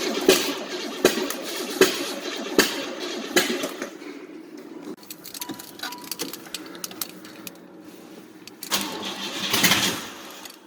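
A Pontiac Fiero engine cranks with a rhythmic, labored turning over, strongest at the start, then fades to a rough, uneven churn before a final surge of cranking.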